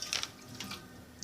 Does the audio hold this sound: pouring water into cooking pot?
yes